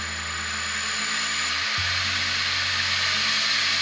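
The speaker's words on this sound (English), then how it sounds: "nice sharp bowl gouge. I'm going to bring the lathe up to speed." A wood lathe spins up with a steady whining hum and a shift in pitch partway through, as a beech blank for a pestle and mortar turns close by before a bowl gouge cuts; no talking.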